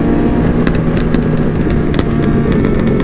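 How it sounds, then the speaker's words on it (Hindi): Motorcycle exhaust backfiring on two bikes, rapid irregular sharp pops and crackles over a loud, steady engine rumble close by, continuous with no voices. "जो बैक फायर बज रहे हैं ना भाई दोनों बाइकों के"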